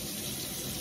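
Water running steadily from a kitchen tap, a close, continuous rushing splash that stays even throughout with no pauses or talk.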